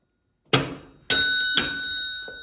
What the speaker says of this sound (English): I'm countering your bell ring with a bell ring of my own